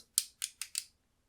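A custom 3D-printed Beyblade Burst top with an ignition driver gives four sharp, close ticking clicks at an even quick rhythm, then falls silent.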